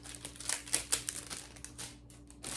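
Clear plastic wrap crinkles in sharp, irregular bursts as it is tucked and pulled tight around a gift basket, up close and fairly loud with no talking.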